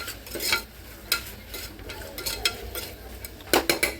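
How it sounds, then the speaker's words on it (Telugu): Cashews stirred into a vegetable pulao in a pot, with a spoon making several short scraping strokes against the metal in an uneven rhythm, ending in a quick cluster of clinks. "మళ్ళీ జీడిపప్పులు వేసేసి మళ్ళీ ఒకసారి కలిపేసుకోవాలి."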